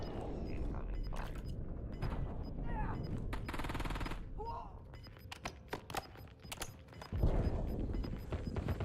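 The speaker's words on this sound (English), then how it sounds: "Incoming fire." Automatic weapons fire in Warzone, scattered bursts and single cracks ringing out at varying distances amid game radio callouts and ambient battle noise.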